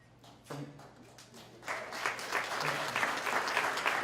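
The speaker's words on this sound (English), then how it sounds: "It's not meant to be an applause line." Applause from a crowd starts sparse, then swells into steady, dense clapping that continues to the end.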